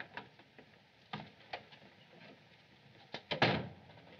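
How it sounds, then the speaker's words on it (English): Door being opened in a 1939 mystery film: faint scattered clicks and knocks of a latch, then a louder creaking swing near the end, all quiet and close. "Open the door."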